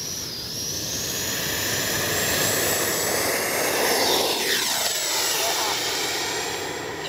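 A Freewing 80mm F9F Cougar RC jet running a 5300 SMC battery pack roars through the air with a loud, steady whoosh that sweeps down in pitch as it passes close by.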